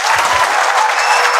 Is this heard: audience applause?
yes